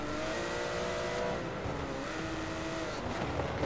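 Porsche GT3 race cars circle Bathurst in a racing video game, a steady close engine drone with whining harmonic tones and faint tire noise, continuous throughout with no talk.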